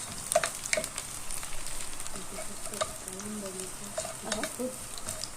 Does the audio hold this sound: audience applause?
no